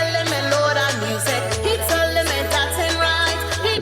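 A song plays with full band texture, a steady bass line under busy rhythmic accompaniment, loud and continuous.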